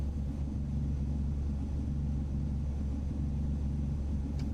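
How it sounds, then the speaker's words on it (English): A truck engine in American Truck Simulator, a W900 running X15 straight pipe sounds, gives a steady low rumbling drone that holds evenly throughout without any talk. "the sounds on today's truck are the Slab Jury X15 straight pipe sounds"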